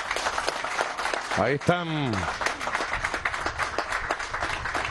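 Clapping for soldiers at a base inauguration in Nueva Esparta, heard as scattered rhythmic claps under a man's loud speech, with a brief whistle-like tone in the middle.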